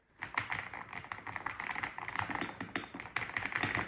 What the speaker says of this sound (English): Let me go to Notepad and try to type.